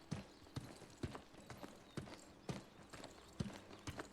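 Horse hooves clip-clop in a steady, even gait as a horse is ridden in the video game New World, each soft hoofbeat landing at about two per second, quiet and close.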